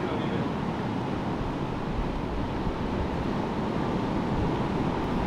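Ocean surf at a remote beach town, a constant broad roar of waves with wind buffeting the microphone, steady and fairly loud with no talk.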